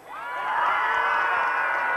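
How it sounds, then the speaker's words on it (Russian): A hall audience at the 2005 Miss Krasa Chernushki beauty pageant cheering and shouting for a contestant, a dense crowd roar that swells quickly and holds steady, with voices mixed through it. "И аплодисменты участницы под номером 6."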